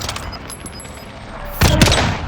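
Sniper rifle gunfire in Call of Duty: Warzone, with faint distant shots followed by one loud, close, booming report that rings out.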